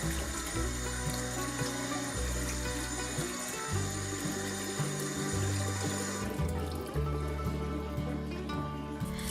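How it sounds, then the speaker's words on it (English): Tap water runs steadily into a sink while raw chicken is washed beneath it, giving a close, continuous splashing flow with shifting tone as the meat moves under the stream. "wash the chicken really clean under the running water"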